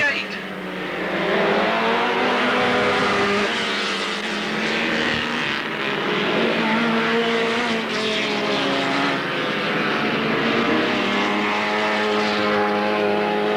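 Race cars lapping Alwalton Raceway in 1983, a continuous droning engine roar that rises and falls as cars pass, heard under a steady commentator's voice throughout.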